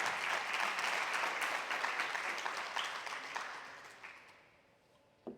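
A church congregation bursts into loud, rapid clapping during a sermon, the applause dense at first and then thinning and fading out, with a single sharp sound near the end.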